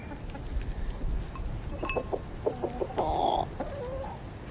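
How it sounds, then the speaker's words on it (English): Chickens let out in a garden cluck and squawk in short bursts at close range over a low background rumble, with a brief louder squawk in the middle. "So our chickens got let out this week."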